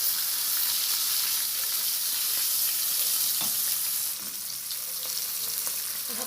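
Tilapia fish frying in oil, a dense steady sizzle and hiss with scattered crackling pops, loud and close throughout, easing slightly toward the end.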